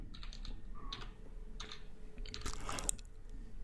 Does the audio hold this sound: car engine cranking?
no